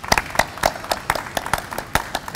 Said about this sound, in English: let's have a great big round of applause for Frontier Airlines